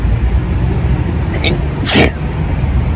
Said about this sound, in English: sorry you guys i sneezed